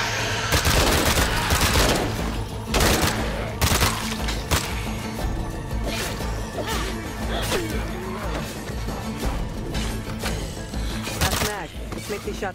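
Gunfire in State of Decay 2 played with a VR mod crackles in rapid bursts and single shots, mixed with impacts and someone talking over the action.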